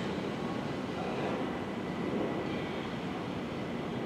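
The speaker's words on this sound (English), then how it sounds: "So there's the pair of 375s leaving for London Charing Cross." A pair of Class 375 electric trains pulling out of London Waterloo East, a steady broad rumble and hiss of wheels and traction running continuously at moderate distance, with no voices.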